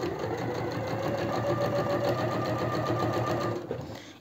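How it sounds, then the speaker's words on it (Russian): A sewing machine runs steadily, stitching along the edge of printed batiste fabric for a peasant-style dress. It is a close, continuous whirring hum that carries on without a break for about three and a half seconds, then slows and stops. "И так проделываю строчку до конца."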